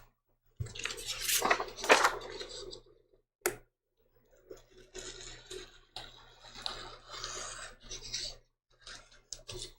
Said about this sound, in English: I'm just going to cut that right off.